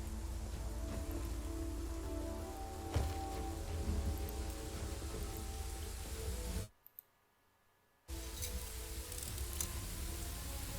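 Rain falls steadily as a soft, even hiss in the Pathfinder: Wrath of the Righteous video game, cutting out into near silence for over a second before returning at the same level.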